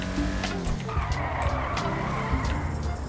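Rear-wheel-drive car in GTA Online driving hard, its engine droning loud and steady throughout with repeated tire skids and squeals layered over the top, no talking.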